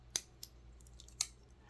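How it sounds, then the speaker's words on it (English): Crazy-sharp full-size scissors on a liner-lock multitool give three crisp, faint snips spaced apart against a quiet background. "We have full-size scissors that are crazy sharp."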